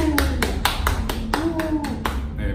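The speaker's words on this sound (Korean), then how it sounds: "오, 박수!" Audience clapping at a fan meeting for a singer, a run of about ten sharp, evenly spaced claps in a steady rhythm, heard over a low background hum.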